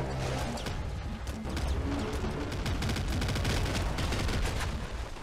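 Rapid, dense video game gunfire with a pistol, loud and continuous shots layered over crashing impacts and clutter, with no talking.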